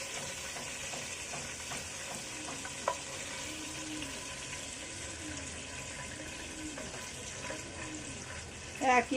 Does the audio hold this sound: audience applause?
no